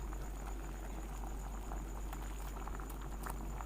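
A pot of bamboo shoot curry boils at close range, with a continuous dense bubbling patter and small popping bursts over a low steady rumble.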